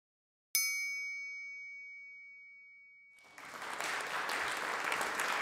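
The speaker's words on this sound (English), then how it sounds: "take this metal stethoscope. When I hit it, it emits a beautiful tone." A metal stethoscope is struck once, ringing out a clear, pure bell-like tone that slowly decays over a few seconds, then a crowd's cheering and clapping swells up loudly.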